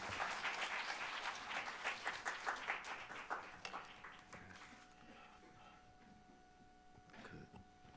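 A church congregation applauds to welcome the pastor, a warm burst of many hands clapping that fades out after about four seconds into a quiet hall with a faint voice.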